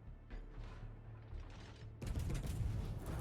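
Heavy naval guns fire high-explosive shells in World of Warships during an Arms Race ranked battle, a dense crashing volley erupting loud and close after a low rumbling stretch of distant booms.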